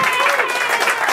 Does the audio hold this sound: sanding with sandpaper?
no